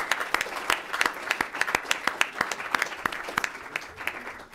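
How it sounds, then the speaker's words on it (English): An audience at a trade policy conference applauds three speakers, a steady round of clapping with crisp, distinct individual claps close by throughout. "if you will all join me in a round of applause for all three of our speakers"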